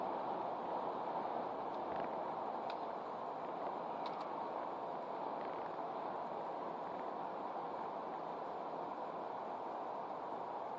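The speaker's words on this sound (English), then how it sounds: "Wow, is it ever windy?" Steady, broad wind rush roars across the whole stretch without letting up, with faint creaks and rattles surfacing now and then.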